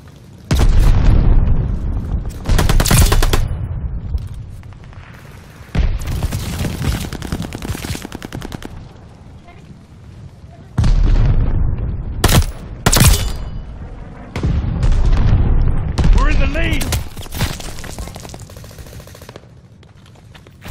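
Stun grenade blasts and bursts of gunfire in the Call of Duty Vanguard video game, loud booming explosions and rapid shots in repeated heavy bursts with short quieter gaps between them.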